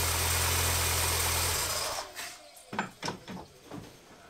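Idling engine of a MINI One R50 after an oil and filter change, a loud steady drone for about a second and a half before cutting off, followed by a few quieter knocks and clunks nearby.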